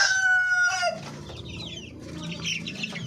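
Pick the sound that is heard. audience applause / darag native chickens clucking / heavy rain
darag native chickens clucking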